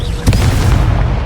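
A Confringo blasting curse from Hogwarts Legacy goes off as one sharp, loud blast early on, then fades into a rumbling low tail with no voices.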